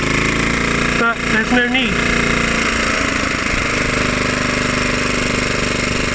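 A 1976 Hayterette rotary lawnmower engine runs loud and steady at close range, its drone continuous throughout, with someone talking briefly over it near the start.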